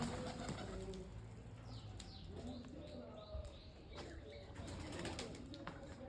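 Blue pigeons coo softly outside, faint and somewhat distant, with light chirps and wing flaps mixed in among low background voices.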